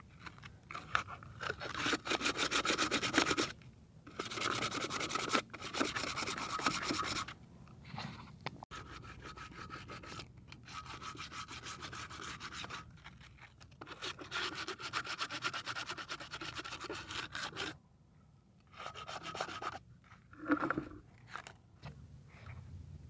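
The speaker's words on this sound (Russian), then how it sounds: "Так, друзья, начинаю зачищать диск 120-й. Наждачкой." Someone sands a cast alloy wheel by hand with 120-grit sandpaper, giving close, gritty rasping strokes in repeated bursts separated by short pauses, with no talking.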